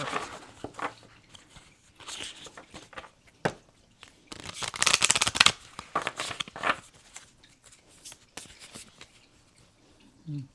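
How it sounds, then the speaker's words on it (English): Angel number oracle cards shuffled and handled at close range, with bursts of papery riffling and rustling, one louder flurry in the middle, and quiet gaps between, no talking. "I'm going to pull a couple of angel number cards"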